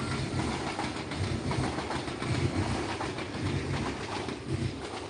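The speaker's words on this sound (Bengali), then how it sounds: "আসলে পাশে ট্রেনের স্টেশন যে কারণে প্রচুর শব্দ আসতেছে" Trains pass at a railway station nearby in Spain, heard as a faint, distant rumble with soft rhythmic clatter, while birds coo now and then in the background.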